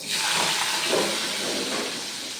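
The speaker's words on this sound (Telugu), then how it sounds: "దాంట్లో కావాల్సిన ఆయిల్ వేసుకొని ఆయిల్ కాస్త వేడయ్యాక నేనైతే ఆనియన్స్ ఇలా వేసుకుంటానండి." Onions hit hot oil in a kadai for a spring onion curry, giving a steady, loud broadband hiss and sizzle that holds evenly throughout, close by and without talk.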